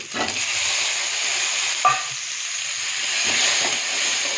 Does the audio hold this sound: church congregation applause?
no